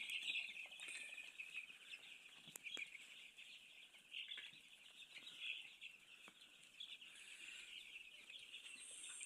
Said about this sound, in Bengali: এখানে 1500 মুরগির বাচ্চা।